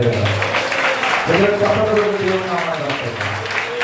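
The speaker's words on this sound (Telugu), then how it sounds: "ఆరాధనలో దేవుని సన్నిధిని అనుభవించిన ప్రతి ఒక్కరు కూడా దేవునికి చప్పట్లు కొడదాం" A church congregation at Sunday worship clapping together, a dense, loud wash of applause filling the room throughout, with voices rising over it.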